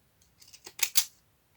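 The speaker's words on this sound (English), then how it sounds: "this is my second-hand scissors that I purchased" Second-hand scissors that were broken and mended with glue and tape, handled close up: a quick run of small metallic clicks and snips that builds to two sharper, louder snaps near the end, with no talking.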